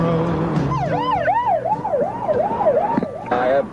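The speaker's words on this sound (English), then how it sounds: "I have police cars whizzing by me now toward the area." Police car sirens wail past during a 1992 Oklahoma tornado, the rising and falling tones sweeping loud and close over a rumbling road and engine background.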